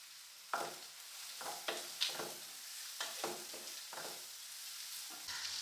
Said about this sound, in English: Add onion. And make it golden brown color.